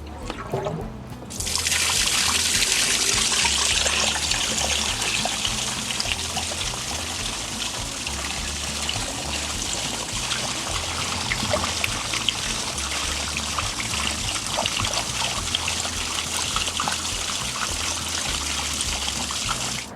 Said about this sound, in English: Once the tank is done draining, you just reach under and turn the valve closed again.